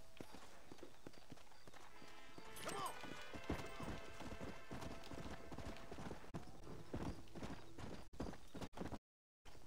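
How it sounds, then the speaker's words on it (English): A horse gallops in a western video game, its hooves pounding in a fast, rhythmic clip-clop close by, with a brief whinny and a few heavier knocks mixed in, and the sound cutting out suddenly just before the end. "I'll ride my horse to the stranger."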